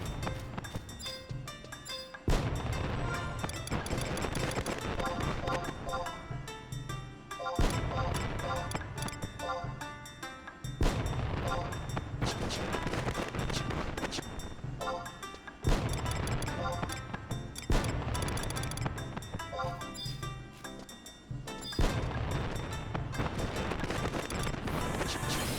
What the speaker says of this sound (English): Damn, they're going fucking apeshit with these fireworks.